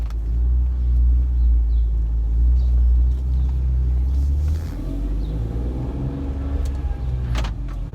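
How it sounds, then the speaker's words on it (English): A BMW E46 M3 pulls away from a standstill after warming up. Its engine gives a loud, steady, close low rumble from inside the car, easing slightly midway, with no one speaking. "So we're gonna just drive off now."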